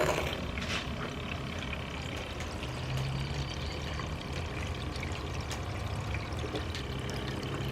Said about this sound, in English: bit of water running over this mat because the gold in this concentrate is super fine